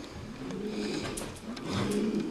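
A pigeon coos softly inside an abandoned beach house, two low rolling coos in a row, faint and close against a quiet, hissy room.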